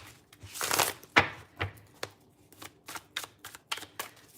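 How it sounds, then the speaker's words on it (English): Tarot cards are shuffled by hand in a series of crisp riffles and soft slaps, an irregular run of close, sharp bursts. "Just gonna shuffle these cards up while we wait for a little bit more people to come in."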